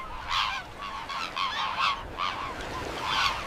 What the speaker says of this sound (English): Even flamingos live here, painting the cold lakes with pink.